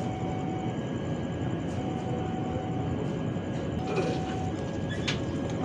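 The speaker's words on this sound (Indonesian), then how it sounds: "Kita tunggu keretanya merapat atau mendekat di stasiun Salem." A train approaches Salem railway station in Indonesia, heard as a steady, distant rolling rumble with faint high metallic tones and a few brief clanks.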